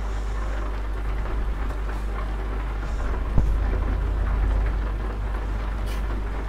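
Steady heavy rain in Euro Truck Simulator 2, roaring without pause, with one sharp knock midway and no voices.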